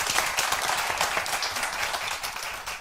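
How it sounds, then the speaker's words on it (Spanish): An audience at a lecture on ethics and big data claps steadily, a dense, even wash of many hands with no voices over it. "Yo os he pedido antes un aplauso para ella."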